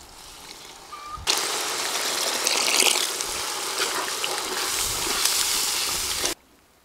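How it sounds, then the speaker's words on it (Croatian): Water gushes into a pot of fried onion and carrot in a steady, loud pour lasting about five seconds, then cuts off abruptly. "sad ću dodati malo vode"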